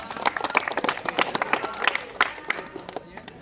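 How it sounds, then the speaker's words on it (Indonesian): A school class applauding in a PE lesson, a short burst of scattered, uneven handclaps from students, moderately loud, fading out toward the end. "tepuk tangan dong sekali lagi"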